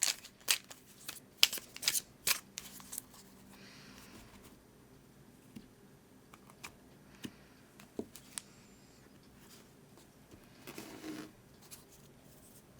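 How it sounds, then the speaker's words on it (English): Tarot cards being shuffled and laid out on a table, with soft crisp card flicks and slides clustered in the first few seconds, then sparse quiet taps and rustles in a near, otherwise quiet room. "I will catch up with you as I'm laying out the cards for you."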